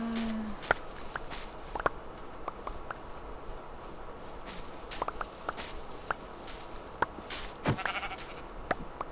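Sheep in a video game bleating a couple of times over a steady stream of light clicky footsteps and small interface-like ticks, moderately close.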